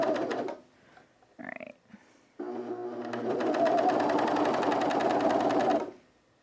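A cover stitch sewing machine sewing picot elastic runs in a long steady whir of fast stitching at close range, after a short burst and a brief pause with small handling noises.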